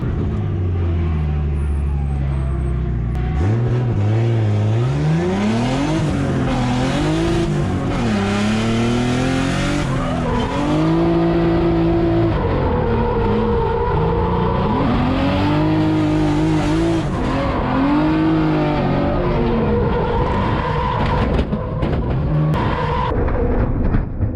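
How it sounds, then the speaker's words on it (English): Race cars roar past on a track at a Clean Culture car event, engines revving and rising in pitch as they accelerate, one after another, loud and close. "Oh, I hear cars now."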